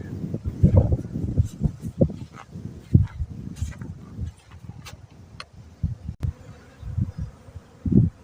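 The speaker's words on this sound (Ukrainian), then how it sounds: "Але тим не менше бджоли полетіли." Honeybees buzzing as they fly out of the hive on their first spring cleansing flight after winter, a steady insect hum mixed with rustling and low handling noises, with no speech.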